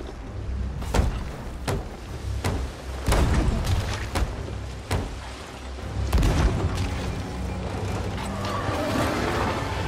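Cannon fire during a ship battle in the game Sea of Thieves, a series of loud booming blasts at irregular intervals over a constant sea and ship ambience, with no talk.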